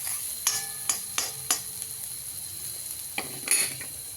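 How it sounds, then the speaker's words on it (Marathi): Red chillies sauté in a pan, heard as a soft background sizzle broken by a series of sharp metallic clicks and scrapes of a spatula against the pan, several in quick succession and then a pause. "ह्याच्यामध्ये लाल होतो आपण असं परतून घेऊया."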